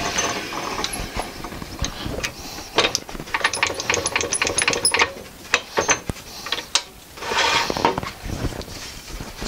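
A maple bowl is sanded while it spins on a wood lathe, giving a steady close whirring hiss broken by frequent sharp ticks and rattling clicks throughout.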